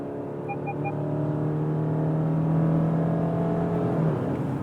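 A 2020 Subaru Outback with a naturally aspirated 2.5-liter flat-four and retuned CVT accelerating hard, a steady rising engine drone heard from inside, swelling in loudness then easing off, with no talking.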